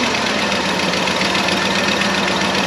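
A 1995 Ford F-150 engine idles steadily up close, a loud, even rumble with a faint knocking texture and constant vibration throughout, no talking.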